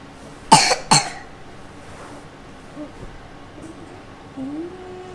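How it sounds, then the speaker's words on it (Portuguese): A child coughs twice in quick succession, close and fairly loud, in a quiet home, followed by faint background sounds. "Tosse aí pra me ver."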